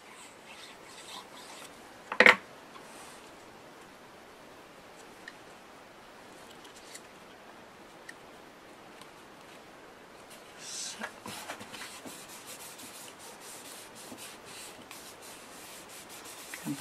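Glue smeared by hand across the back of pattern paper for a slider card, a soft continuous rubbing and scraping that stays faint and steady, with one sharp knock early on and slightly busier rubbing near the end.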